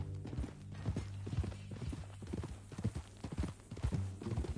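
Horse hooves clip-clopping in the video game Red Dead Redemption 2, a steady rhythmic walking gait of close, clear hoof beats with a low tonal hum beneath.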